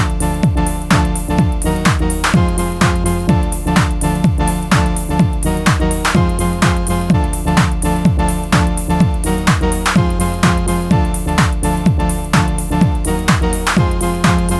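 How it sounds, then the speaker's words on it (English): A punchy 80s-style house beat with steady kick and hi-hats drives under a repeated, syncopated minor chord stab sample played at different pitches on a Nord Drum 3P, loud and continuous throughout. "you need some minor chord sample that you play on different pitches"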